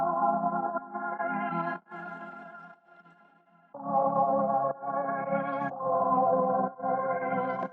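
A melodic sample processed with chorus, delay, cassette-style dropouts and wow and flutter, playing sustained warbling chords that dip and drop out briefly near the middle before returning, with a soft, wavering vintage character.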